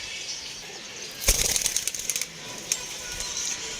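A short burst of rapid wing flaps from a pigeon taking off nearby, followed by a few scattered flutters against quiet background hiss.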